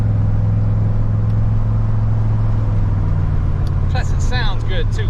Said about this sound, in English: That Chevy 350 will pull.